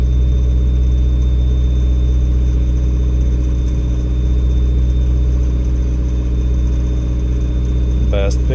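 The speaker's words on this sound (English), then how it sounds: "We're going to induce knock now while parked. You can hear the engine" A parked Mazda Miata's engine runs with knock deliberately induced, a loud, steady close-up drone with a brief rattle near the end.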